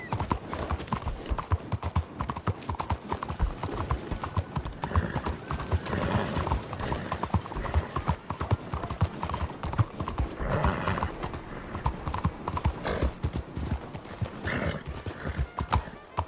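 Horse hooves clip-clop steadily through Red Dead Redemption 2 gameplay, a fast rhythmic gallop with occasional whinnies and a voice briefly calling out.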